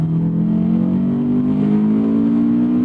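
A Honda S2000 AP2 sports car engine revs steadily and close by, its smooth rising drone climbing slightly in pitch over about three seconds with no voices.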